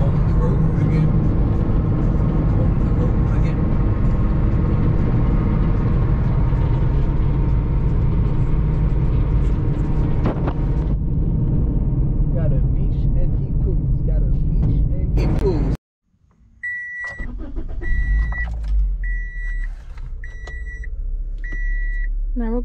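Car driving on the road with a puppy aboard: a steady engine and road drone fills the cabin, then cuts off abruptly and resumes with a series of repeated electronic beeps over the returning hum.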